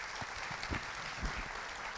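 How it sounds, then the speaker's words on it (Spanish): Audience applause for a panel at a conference on mining and territories, a continuous wash of many hands clapping at steady loudness with a few stronger claps. "les pido un aplauso para ellos"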